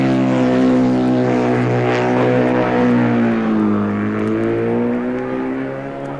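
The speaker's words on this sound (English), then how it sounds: "Jeff Duke made a really sparkling getaway in the senior on his German BMW" A German BMW racing motorcycle makes its getaway at the 1958 Senior TT. The engine gives a loud, sustained drone that slides in pitch as it pulls away, then fades a little toward the end, with no speech.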